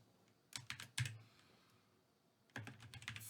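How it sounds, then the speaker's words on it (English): Quiet keystrokes clatter on a computer keyboard in two short bursts separated by a pause of silence, close and alone with no voices. "I'm just going to click that button right there, and we're going to type"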